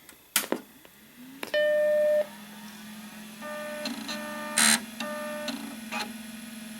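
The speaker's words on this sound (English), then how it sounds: "See if we hear that sweet stepper motor hard drive." A Seagate ST-251N stepper motor hard drive powers up, with a spin-up whine, sharp clicks and a short beeping tone, then a rising hum, stepping chirps and a brief louder burst as it initializes.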